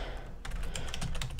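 Soft, quick keystrokes on a computer keyboard, a light patter of taps with short pauses, close and fairly quiet with no talking.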